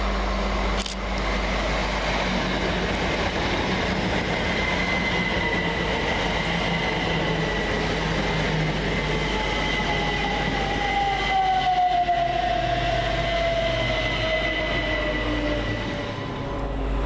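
Two Southern Class 377 electric units run through Leighton Buzzard station, a steady low rumble and rail hiss with a rising whine and tonal hum, sustained and fairly close throughout, with no talk.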